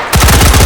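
HK416 rifle firing in the VR game H3VR, a loud close burst of rapid automatic shots in a fast, even rhythm after a brief quiet moment.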